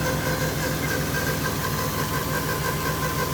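A turbocharged 3.7-litre V6 Ford Mustang engine idles steadily with a loud, constant, even drone and slight knocking texture, close up and without voices.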